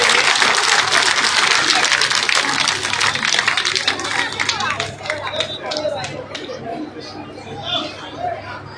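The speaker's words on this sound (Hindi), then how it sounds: "आप लोगों की तालियां नहीं रुकनी चाहिए" A village crowd at a political rally in Hasanpur, Gannaur, breaks into loud, dense applause that thins and tapers over several seconds, mixed with chatter and a voice over a PA.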